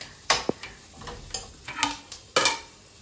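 A spoon stirs egg rice frying in a pan, giving a few sharp scraping strokes over a soft sizzle, close and uneven in rhythm, with no talk.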